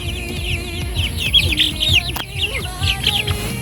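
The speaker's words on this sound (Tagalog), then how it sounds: "Yun ang aking mga manok" Chickens cluck and chirp in a busy, overlapping flock, with short repeated calls close by and a brief sharp knock partway through.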